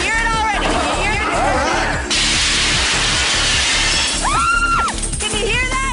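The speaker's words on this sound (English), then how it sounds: "That's breaking glass!" Glass shatters and crashes as a house is torn down in a demolition, a continuous loud wash of breaking and smashing noise, with crowd cheers and shouts over it.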